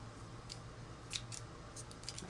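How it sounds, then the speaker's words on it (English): Dull scissors snip through cranberry-colored twine in a handful of crisp, separate cuts, close and quiet, with pauses between each snip. "my scissors are pretty dull."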